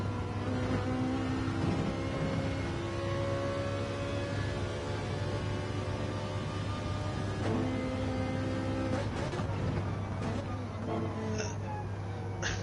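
A Group 4 Ferrari race car engine in a racing video game drones steadily with a harmonic whine, shifting pitch as it revs up and changes gear, heard close from on board, with a voice talking over it.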